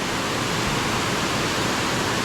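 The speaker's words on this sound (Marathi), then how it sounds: "किती उंचावून पाणी पडतंय बघ" The Manche waterfall in Devgad, Konkan, roars as water drops from a height, a dense steady broadband rush heard from a distance with no other sounds.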